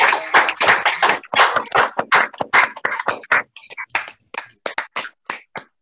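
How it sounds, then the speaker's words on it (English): Scattered applause and hand taps for veterans and their families during a remote video-call gathering, a loose run of uneven claps and taps across several seconds with no talk. "we're going to offer a round of applause to all of our veterans"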